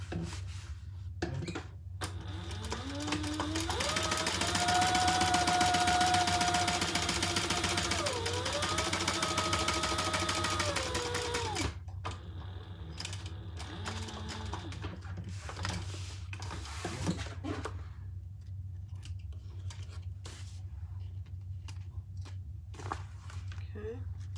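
A sewing machine topstitches a bag, running in a steady mechanical whir for about ten seconds before stopping, followed by quieter handling clicks and shuffles over a constant low hum.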